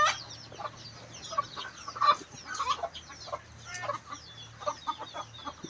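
Broiler chickens on a poultry farm cluck and chatter in a busy, overlapping flock, close and fairly loud, with steady low background hum throughout.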